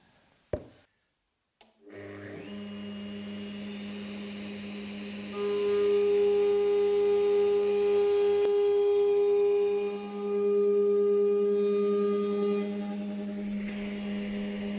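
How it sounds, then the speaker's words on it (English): A router mounted in a router table cuts a shallow locating groove for a fixed fence in a woodworking shop. After a brief knock, a steady motor whine spins up and holds loud and continuous, dipping briefly midway, with no talking. "I'm routing a shallow groove in which to locate the fixed fence."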